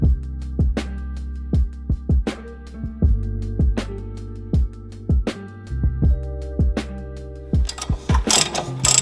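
Repeated ratcheting clicks from a wrench turning a pinch bolt on an Audi S4 during a coilover install, coming in short bursts with pauses, close and fairly loud, with a harsher metallic scrape near the end.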